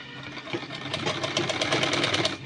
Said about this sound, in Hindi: इसके किनारे किनारे पर सिलाई लगानी है